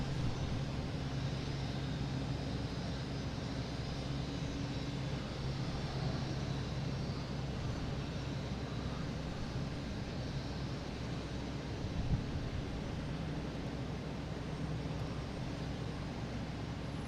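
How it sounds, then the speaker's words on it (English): A Cape Air plane takes off while a Delta jet lands at Boston Logan International Airport, a steady distant jet roar and broadband rumble holding for the whole stretch, with no talk over it. "we got a Cape Air taking off, and we have a Delta landing"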